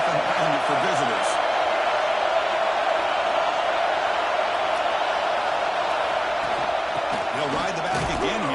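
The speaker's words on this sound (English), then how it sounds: "Listen to the crowd energy here in the early going." Stadium crowd noise from the NCAA 26 college football video game, a steady dense roar of many voices at a tough home venue, constant and loud throughout with a broadcast commentator's voice faintly in the mix.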